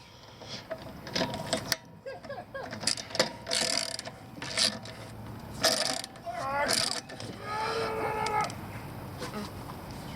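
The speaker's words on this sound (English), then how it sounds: "Listen to that gear crack." Gears cracking on an APX GNG kart: irregular ratcheting grinds and sharp mechanical crunches in bursts, fairly close, with people talking in between.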